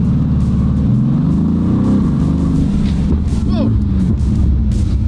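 A 1200hp Mercedes AMG race-car build rumbles loudly at quarter throttle, a deep steady engine note swelling and easing through several revs, with voices talking over it.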